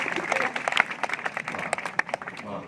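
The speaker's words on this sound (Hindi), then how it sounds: "बजा दीजिए, बहुत अच्छा सुना। क्या शानदार तालियां थी आप।" A poetry recital audience at a Gangaur fair in Kathumar claps together, a dense crackling wash of hands with sharper individual claps popping out, steady and fairly close for the whole stretch; a voice may be faintly mixed in.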